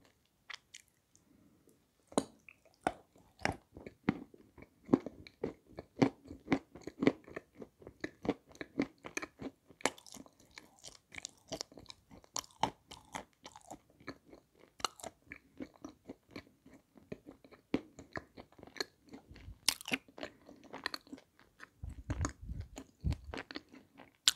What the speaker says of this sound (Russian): Прям хочется долго жевать и смаковать.